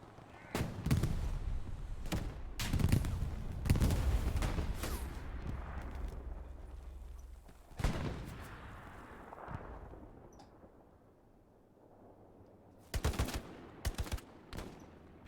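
Rapid bursts of gunfire in the WWII shooter Hell Let Loose, several sharp volleys early on and a quieter stretch before more close, loud shots near the end, with no talking.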